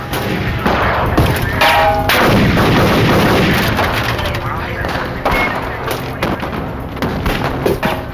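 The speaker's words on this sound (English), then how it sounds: "Agent McNeil arrived seconds later, firing at point-blank range." Rapid gunfire from an FBI shootout reenactment, loud and dense shots layered under continuous talk throughout.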